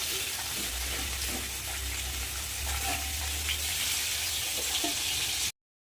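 Cut potatoes frying in a pan until browned, giving a steady, close hiss and crackle that runs evenly without pause and then cuts off abruptly near the end.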